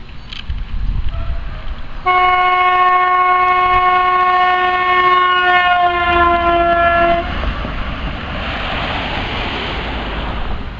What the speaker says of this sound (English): That, ladies and gentlemen, is the Doppler effect.